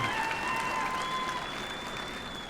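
A crowd at a university commencement ceremony applauds the graduates with steady, sustained clapping throughout, along with a faint high tone in the hall.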